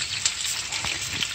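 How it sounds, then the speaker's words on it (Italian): Oil with garlic and rosemary sizzling steadily in a pan while chicken cacciatore is being made, a continuous close hiss with faint crackles and no voices over it. "Come potete sentire, sta già sfrigolando"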